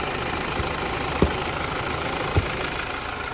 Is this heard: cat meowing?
no